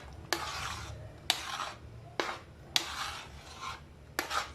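Shrimp paste being stirred into a laing mixture of taro leaves in a pot, a spoon dragging through it in five rasping, scraping strokes that start with a sharp knock, close and alone.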